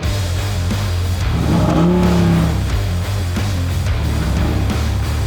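A 700-horsepower Ram TRX pickup engine rumbles loudly up close, rising in a throaty rev before settling back to a heavy idle.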